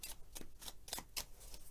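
Rococo Deluxe Edition playing cards with a plasticky linen finish are shuffled by hand close up, a run of quick crisp riffling bursts repeating about every quarter second, with no talking.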